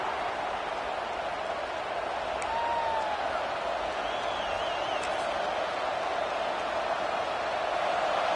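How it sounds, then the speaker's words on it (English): Crowd noise fills a college football stadium during a night game, a steady broad roar of cheering that holds at an even level throughout. "This crowd, full throat, spreading the eardrums and letting them know it's going to be a long day."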